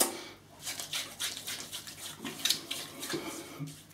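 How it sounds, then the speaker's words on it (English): Tap water runs and splashes softly while hands are wetted at a sink before a second shaving pass with Swedish bath soap, a quiet, uneven wash with small splashy bursts. "I'm just going to wet my hands"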